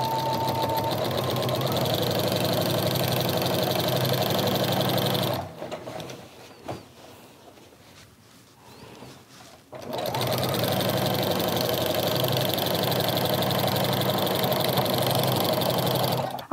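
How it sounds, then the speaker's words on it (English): Sewing machine with a walking foot quilting straight lines, a loud close mechanical whir that runs steadily, stops for a few seconds of quiet handling, then resumes at the same pace. "I have quilted down the block seam joins and then the middle of every single one"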